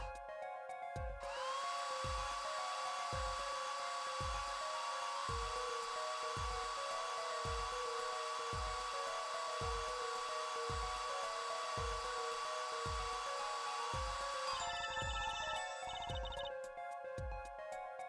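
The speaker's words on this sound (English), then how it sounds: "Just press A to blast it with the dryer." A hair dryer blasting wet plaster in an Ace Attorney Apollo Justice video game, a loud, steady whirring roar that runs for most of the clip over a regular pulsing beat of game music.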